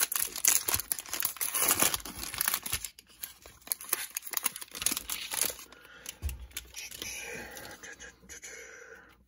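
Foil wrappers on 2021 Donruss racing card fat packs crinkle and tear close to the mic, busy rustling in bursts that soften into lighter handling of cards.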